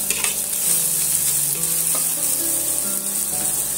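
Onions fry with salt in a hot pan, a loud continuous hissing sizzle that fills the space, with faint scraping of a stirring spoon.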